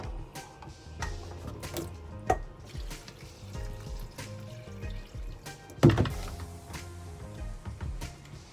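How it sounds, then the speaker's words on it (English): Callaloo greens are rinsed under a running kitchen tap. A steady wash of water flows throughout, broken by a few soft thunks and knocks as the leaves are handled, with one louder bump near the end. "Wash the greens."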